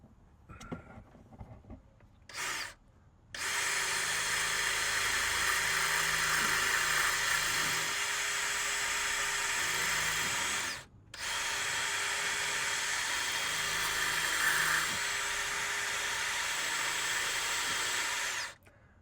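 A handheld power drill bores into a Ford Sport Trac exhaust manifold with a short bit: a brief burst near the start, then two long steady whining runs separated by a short pause, loud and close with no talk.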